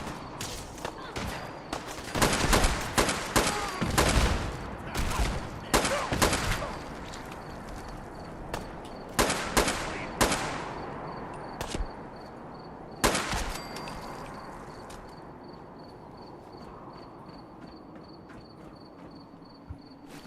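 AK rifle gunfire in Fallout 4, with bursts of sharp, loud shots clustered in the first half, a final shot near the end, and gaps between bursts, followed by a fading tail and a steady high tone in the background.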